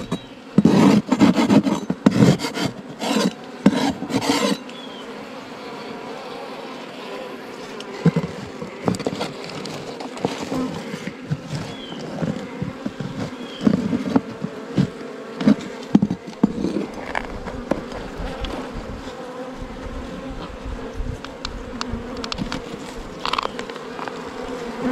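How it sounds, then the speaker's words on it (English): Bees buzz steadily in a Mississippi swamp while scraping on wood, a close droning hum threaded with rasping, grating scrapes; loud bursts of scraping open the stretch, then the buzzing and scratching continue unevenly near the microphone. "A lot of freaking bees in there."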